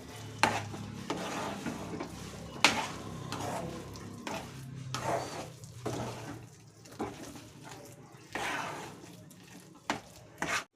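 Potato masala for masala dosa, with garam masala just added, stirred in a pan: repeated scraping sweeps and soft sizzling, close up, in irregular bursts with brief pauses between strokes.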